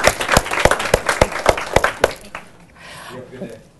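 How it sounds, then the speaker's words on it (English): An audience at a social justice talk gives a round of applause for an audience member, with loud rhythmic claps for about two seconds, then a quieter stretch with talking. "Can we give Dexter a round of applause for being so positive?"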